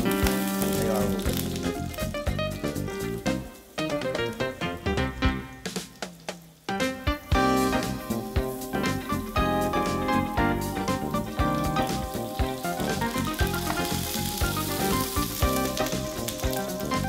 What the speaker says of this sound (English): That's all the coconut oil that you hear.